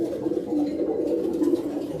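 Breeder pigeons in a breeding setup cooing continuously in low, throaty, overlapping murmurs, close and steady throughout.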